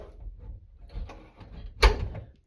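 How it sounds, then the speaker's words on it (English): An indoor door is pushed shut at night in a house, a single solid thud near the end of a short stretch of quiet shuffling and handling noise. "Shut that door."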